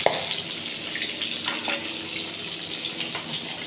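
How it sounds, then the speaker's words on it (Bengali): Garlic frying in ghee after a tempering is added, a steady close sizzle with a few soft clinks of stirring, no voices. "এখানে একটু দিয়ে মাঝি ফোড়ন দিয়ে রসুন ভাজা করছি ঘিয়ের মধ্যে"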